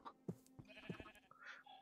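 A sheep in the Minecraft video game bleats a few times in short, clear calls, with steady game background sound behind it.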